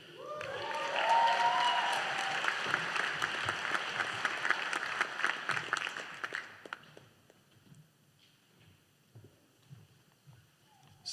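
Audience applause at a law school commencement ceremony, a broad, fairly loud burst of clapping that swells early, holds for several seconds, then fades to scattered claps and quiet room noise.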